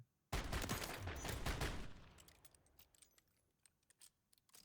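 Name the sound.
rapid gunfire of M4 with Basilisk aftermarket part, video game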